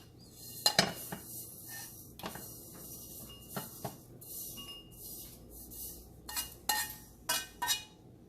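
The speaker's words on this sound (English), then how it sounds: "Now the dry coconut slices and sesame seeds are roasted well, so we are going to change to a bowl" Dry-roasted coconut slices and sesame seeds are scraped from a pan into a bowl. A spoon clinks and scrapes in irregular bursts against metal and crockery, close up and fairly quiet, with no talking.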